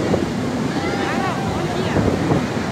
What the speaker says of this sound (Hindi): देखिए हम समुद्र पहुँच चुके हैं, जगन्नाथपुरी तट पर है, समुद्र के तट पर है।